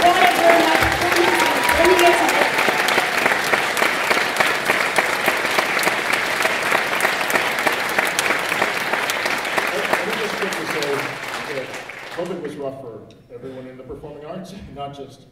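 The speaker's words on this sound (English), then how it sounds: "I think we need to give them a huge round of applause times two." An audience at a live taiko concert at the Perkinson Center in Chester, Virginia, gives sustained, full-hall applause that tapers off after about twelve seconds, when a person begins speaking.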